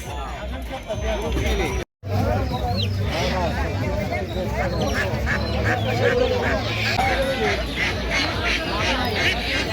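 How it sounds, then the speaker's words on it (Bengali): Ducks quack repeatedly, near and fairly loud, amid the steady hubbub and voices of a weekly village poultry market in Bangladesh where native ducks and chickens are sold; a brief dropout interrupts the sound early on. "হাঁস কি আপনার"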